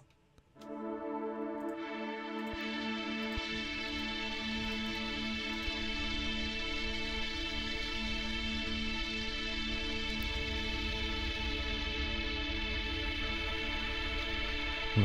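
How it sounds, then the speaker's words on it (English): A sustained music chord swells in and holds with a long, dense reverb tail processed through OTT compression and reverb plugins, droning steadily and evenly for over ten seconds without fading. "What's gonna happen when the reverb runs out?"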